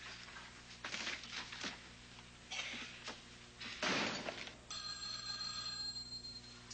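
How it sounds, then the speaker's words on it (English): A telephone rings in a police station office in a sitcom scene, a brief electronic ring entering after muffled thumps and a door slam, steady and fairly close over quiet room noise. "Curtis, it's a phone for you."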